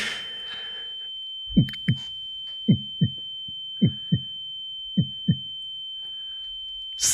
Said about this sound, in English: The only sound is your heartbeat.